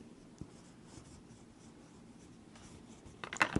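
A broad-nib Waterman Carene fountain pen filled from a Waterman Blue ink cartridge scratches softly across paper, a faint, quiet writing sound that ends with a few louder strokes.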